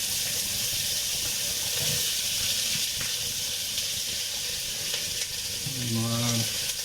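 Oil sizzles steadily in a frying pan while a spicy oriental chicken dish is being cooked, a close and continuous hiss throughout, with a brief voice near the end.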